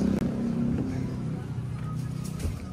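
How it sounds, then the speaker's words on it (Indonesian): A car engine idles as it warms up before a drive, a steady low rumble heard up close and continuing throughout, with a brief dropout near the start and a soft knock toward the end. "Panasin mobil dulu guys."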